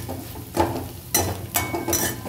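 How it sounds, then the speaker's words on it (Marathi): A spoon stirring turmeric into dal in a pan, giving several scraping, clinking strokes at an irregular pace over a low background. "त्यात हळद टाकली आपण आणि त्याला मिक्स करतोय आपण"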